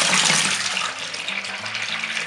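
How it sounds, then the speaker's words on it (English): Grape juice pours from a wine kit into a plastic primary fermenter bucket, a continuous splashing gush of liquid that stays loud and close for the whole stretch, with no voices over it. "we need to take our grape juice and pour it into our primary fermenter"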